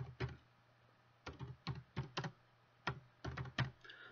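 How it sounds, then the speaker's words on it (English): Bursts of typing on a computer keyboard, quiet and close, with short clusters of key clicks separated by brief pauses and no talking. "So let's type coloring book for kids."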